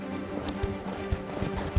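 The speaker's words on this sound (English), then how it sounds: "While I was riding the horse" A ridden horse's hooves clip-clop at an easy, regular pace, several distinct thuds close by over a faint background hum, with no talking.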